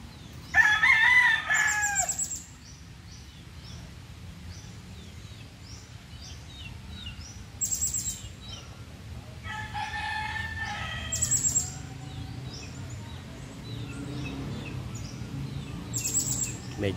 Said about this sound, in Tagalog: Yan yung mga manok gubat dito.